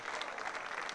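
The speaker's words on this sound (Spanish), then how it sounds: "Fuerte el aplauso" A crowd applauding courtside at a padel match after a super tiebreak finish, a brief continuous patter of many hands clapping, moderately distant and unaccompanied by speech.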